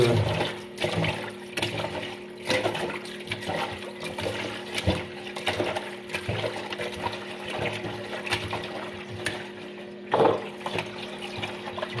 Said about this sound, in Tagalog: Hugasin ng maigi.